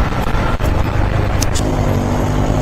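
A Honda Livo motorcycle runs while being ridden in rainy conditions, a low steady engine drone under rushing wind, with a couple of brief higher clicks partway through.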